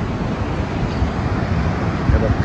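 Sea waves wash steadily in front of a hotel area in Da Nang, a broad, continuous roar of surf blended with wind rush and distant road noise.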